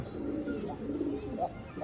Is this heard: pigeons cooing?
yes